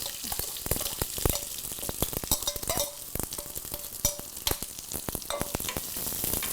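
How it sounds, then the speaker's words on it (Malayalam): Mustard seeds crackling in hot oil with curry leaves and onion frying, a dense continuous sizzle dotted with many sharp pops and spoon stirs, close and loud with no talk. "കടുക് പൊട്ടാൻ തുടങ്ങി ഈ കറിവേപ്പില ഇടുക ഈ ബാക്കിയുള്ള ഉള്ളി"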